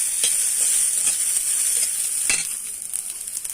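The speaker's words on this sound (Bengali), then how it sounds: "লঙ্কা দিলাম, পেঁয়াজ রসুন দিলাম। দেখেন দেখদিন একবারে দিয়ে ভাজিলুম সুন্দর করি।" Chili, onion and garlic frying together in a pan, a steady close sizzle with a few sharper crackles and spits breaking through, continuing alone without talk.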